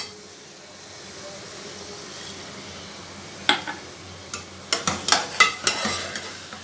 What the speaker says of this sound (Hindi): चलिए इसे हाई फ्लेम पे भून लेते हैं